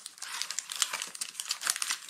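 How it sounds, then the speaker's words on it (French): Plastic packaging from a Forza 350 scooter part crinkles and tears close by in a busy, continuous rustle of quick bursts, with no talking. "Cette pièce-là, je vais la déballer pour vous."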